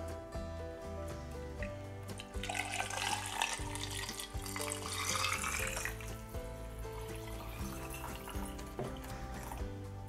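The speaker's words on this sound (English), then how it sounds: "So we've got some filtered water here. We're going to put that in. We're going to fill it right to the top." Filtered water poured into a jar of gherkins for Bulgarian-style pickling, a bubbling, gurgling stream that builds in the middle and tapers off, close and fairly quiet.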